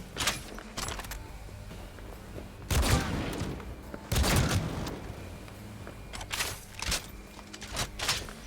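Guns fire in a firefight in Cyberpunk 2077, heard fairly faint. Several separated bursts and single shots crack out at irregular intervals, with two heavier volleys in the middle, over quiet background noise.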